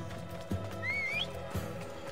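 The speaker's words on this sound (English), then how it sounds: "where's my horse?" A horse neighs once in the video game Assassin's Creed Odyssey, a rising, whistly whinny standing out over low game ambience with a couple of soft thuds.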